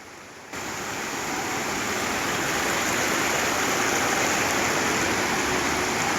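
Floodwater near Pothundy Dam rushes over a bus road in a strong current, a loud, steady roar of churning water that swells after a brief quieter start and holds without pause.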